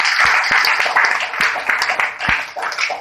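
Audience applause for attendees from Nepal at a speech event in Khutauna, Bihar, India: a dense, steady wash of many hands clapping close by, with a few sharper individual claps, lasting throughout.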